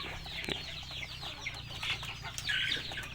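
A tall, long-bodied meat-breed rooster with grey-gold plumage and a white tail clucks in short bursts amid a busy, hissy farmyard background with sharp chirps from other birds.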